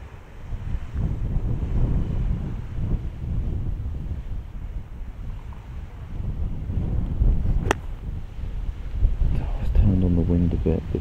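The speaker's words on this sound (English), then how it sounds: "Wind a bit, but it's not horrendous." Wind gusting across a golf course, a steady broadband rush buffeting the microphone throughout, with a brief sharp click near the end.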